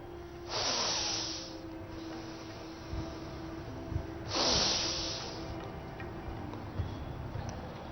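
Two loud, deep breaths during a yoga therapy session, each a long airy hiss lasting about a second, spaced a few seconds apart with quieter room sound between.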